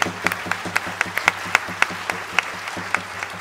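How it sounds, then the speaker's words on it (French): A theater audience at a stage show applauds, the clapping thin and scattered with distinct individual claps at an uneven, steady rhythm for a few seconds, moderately close. "On peut les applaudir."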